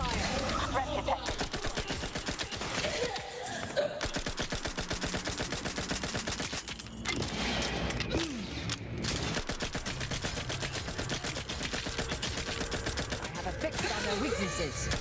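Continuous rapid automatic gunfire in the video game Outer Worlds 2, loud and dense bursts with brief pauses, under occasional game voice lines.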